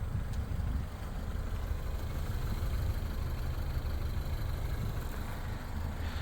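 A 2016 Ford Fiesta 1.25 Zetec's four-cylinder petrol engine ticks over at idle, a steady low rumble and hum running evenly throughout with no voices.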